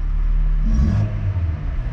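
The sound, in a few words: VW MK3 Golf engine running roughly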